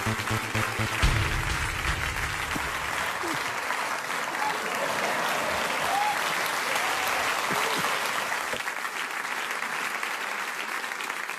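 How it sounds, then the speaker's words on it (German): The studio audience of the German late-night TV show Neo Magazin Royale breaks into long, sustained applause lasting over ten seconds, with a voice heard briefly at the start. "Großer Applaus für Curly und Photoshop Philipp."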